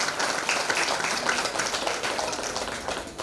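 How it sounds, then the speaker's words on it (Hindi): Steady, dense applause from a crowd at a religious discourse, many hands clapping continuously at an even level throughout, with no voices standing out. "एक बार जोरदार तालियां हो जाए"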